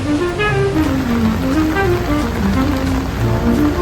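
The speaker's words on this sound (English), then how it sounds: "it was a rainy day in Hong Kong" Rain falling on a rainy day in Hong Kong, a steady dense hiss of drops on surfaces, loud and unbroken, with faint tonal background music underneath and no talk.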